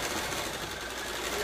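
A domestic sewing machine runs steadily at moderate speed, a close continuous whirring hum with no pauses and no talk over it.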